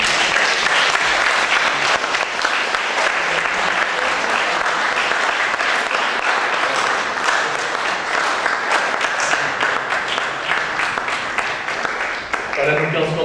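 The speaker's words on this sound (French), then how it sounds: "elle est parmi ces 15 candidates que je vous demande d'applaudir bien fort" A large audience at the Miss Picardie 2019 pageant applauds the 15 candidates with loud, sustained clapping that continues for over ten seconds, and a voice briefly cuts in at the end.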